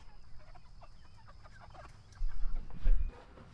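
Pastured chickens cluck and murmur on a farm ahead of processing, with soft repeated calls over steady outdoor background noise and a couple of louder, closer bursts near the end.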